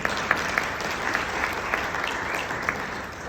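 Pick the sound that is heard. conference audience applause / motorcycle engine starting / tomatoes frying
conference audience applause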